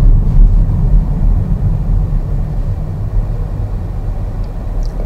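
A 2023 Renault Espace glides slowly to a stop behind a vehicle ahead under adaptive cruise control, a loud, steady low rumble of road and engine noise from inside the car.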